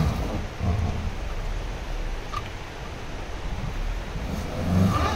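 A Suzuki Grand Vitara SUV labors on a slippery Sikkim road with its wheels spinning, giving a low, continuous engine drone with a few surges and faint rain-like hiss in the background, no voices.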